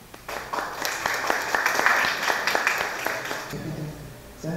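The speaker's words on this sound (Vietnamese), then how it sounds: "Một tràng pháo tay cho cô Bạch Cúc." Audience applause for a woman being honored at a Christmas gathering, a dense patter of many hands clapping steadily for several seconds, then fading as a voice begins.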